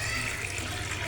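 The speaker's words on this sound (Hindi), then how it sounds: "थोड़ा सा पानी डालेंगे, पानी डाल के हम इसको ग्राइंड कर लेते हैं" Water pours steadily onto chopped onions in a grinder jar before grinding, an even, close, continuous rushing with no pauses.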